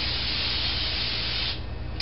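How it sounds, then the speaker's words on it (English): A close, continuous hiss of an aerosol cooking spray onto pizza dough lasts about a second and a half, then tapers off. "now go ahead and spray this top"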